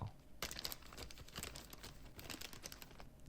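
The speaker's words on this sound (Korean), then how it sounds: "지퍼백 한 개를 준비해 주세요" A plastic zipper bag for storing chili powder is handled close by, with soft continuous crinkling and rustling and a few sharper crackles throughout.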